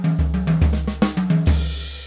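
A drum lick on a bebop drum kit: a quick run of close, crisp hits over ringing, tuned low drum tones, with sharp accents near the middle and end of the two-second phrase.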